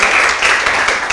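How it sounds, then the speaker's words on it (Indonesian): Applause during a practice interview session for Indonesian flight attendant candidates: a short, loud burst of steady clapping from a small group, close by. "Oke, tepuk tangan buat Desi."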